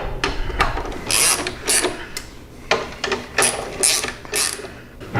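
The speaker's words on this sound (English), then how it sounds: "go ahead and tighten up your mounting bolts" Bolts on a stretched rear fender of a Harley Softail being tightened with a ratchet, giving bursts of quick clicking pawl strokes in several spaced runs, close and fairly loud, with no talk.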